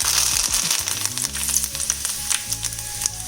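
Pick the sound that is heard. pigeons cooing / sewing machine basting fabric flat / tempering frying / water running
tempering frying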